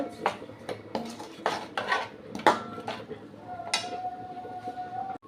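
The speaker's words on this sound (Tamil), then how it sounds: "நல்லா கொஞ்சம் கிண்டி விட்டுக்கலாம்" A spoon scrapes and clinks around the inside of a metal pot of okra tamarind curry in quick irregular strokes, close and fairly quiet, with a faint voice underneath.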